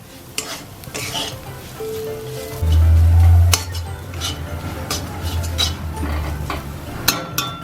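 Masala spices fry in hot oil in a pan with a steady close sizzle, broken by scraping stirs and metallic clinks of a utensil against the pan; a loud bubbling surge rises briefly partway through.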